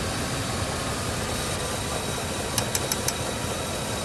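A Rolls-Royce Silver Spur engine idles under restoration, with fuel contamination and rust in the fuel, giving a steady, even hum with a few light ticking clicks near the end.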